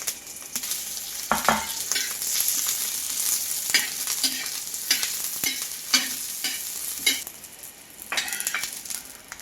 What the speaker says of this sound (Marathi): आता मिरची आणि लसूण भाजून घ्यायचा